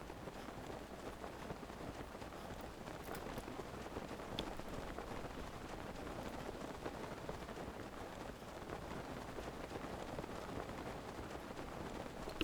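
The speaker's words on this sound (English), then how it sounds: "Well, I'm not complaining about the rain." Steady rain in the video game Breath of the Wild, a dense, even hiss of falling drops that fills the whole stretch without breaks, with no talk over it.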